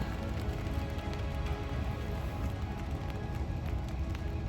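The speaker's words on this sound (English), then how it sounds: "I think that's rain." Rain falls on a camp tent along the Mississippi, a steady dense patter that holds an even level throughout with no voices.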